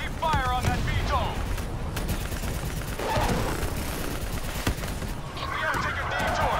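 Rapid automatic gunfire rattles in bursts through a chaotic Call of Duty Black Ops 3 firefight against a VTOL, with explosions and shouted voices mixed in the dense battle din.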